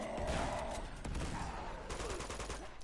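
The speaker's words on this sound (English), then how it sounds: "I'm gonna blow up that sap, and throw two grenades at him" Explosions and gunfire in the Uncharted 2: Among Thieves video game, a few sharp bursts with a heavy blast near the start and more rattling shots following, fairly quiet in the mix.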